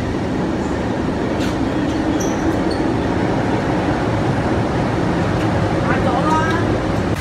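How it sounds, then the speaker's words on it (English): A train pulls into a Hong Kong station platform after a turn-back siding, a continuous loud rumble of wheels and carriages with faint high squeals of braking wheels, while people talk nearby. "The train arriving after the turn back siding."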